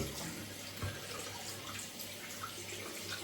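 Water runs out into a sink during a wet shave with a Mühle R41 safety razor, a steady splashing pour heard close and alone for a few seconds.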